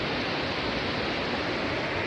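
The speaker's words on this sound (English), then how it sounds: "There's like more waterfall stuff coming down from here," A waterfall pours down a mountain ridge, a steady, loud broadband rush of falling water heard alone with no voices.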